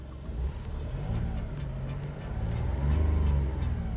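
A car with a sporty engine note revving, a throaty low rumble that builds and climbs toward the end, heard close and continuous.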